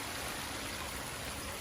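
Water runs steadily over a garden pond waterfall, a soft continuous splashing rush at low level with no voices.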